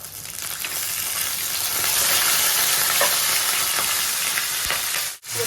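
Mustard seeds, cumin and curry leaves sizzle hard in hot oil with fried peanuts for Ugadi pachadi, a loud continuous crackling hiss with scattered pops, close and steady throughout.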